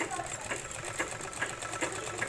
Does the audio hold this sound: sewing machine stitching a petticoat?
yes